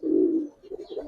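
A silver Giribaz pigeon gives one soft, throaty coo up close, followed by a few fainter murmuring notes.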